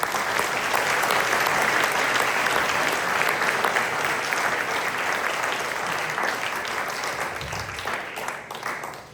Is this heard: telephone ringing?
no